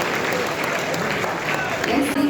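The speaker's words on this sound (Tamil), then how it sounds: "They deserve a big round of applause." Audience clapping for a live band with tabla player at a Tamil film event, a steady mass of applause filling the hall, with some voices mixed into the crowd noise.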